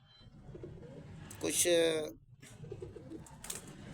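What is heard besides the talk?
pigeons cooing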